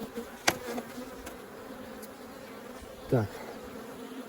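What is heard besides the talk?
honey bees buzzing around a beehive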